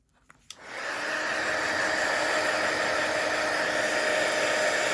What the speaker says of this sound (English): Get my heat tool out again.